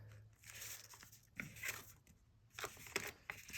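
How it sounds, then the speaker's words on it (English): Paper being folded and creased by hand for an origami stingray fighter jet, with soft crinkling and sharp creasing bursts in short irregular clusters, close and fairly quiet. "You want to fold this into the center."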